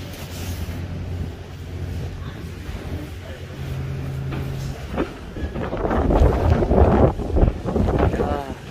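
Strong wind roaring across a Korean fishing port at Moseulpo on Jeju, buffeting the microphone with a steady broadband rush that swells louder in the second half, with a low engine-like hum underneath.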